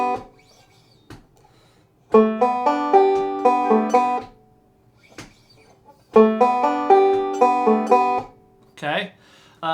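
Two bursts of bright plucked banjo notes, each a short rolling lick from "Sweet Home Alabama," separated by quiet gaps with soft clicks, ending with brief talking.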